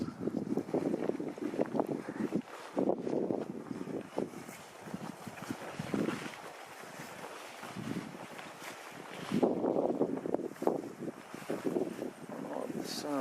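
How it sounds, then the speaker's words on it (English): A breeze gusts across a backcountry campsite in the Wind River Range of Wyoming, a steady low rumble of wind buffeting the microphone that swells and eases in uneven gusts. "Good thing it's been pretty breezy today"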